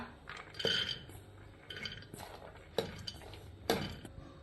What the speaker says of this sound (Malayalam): ഇതിന് വേവിച്ചെടുക്കാൻ വേണ്ടി അടുപ്പത്ത് ഒരു കുക്കറിലേക്ക് ഇടാം.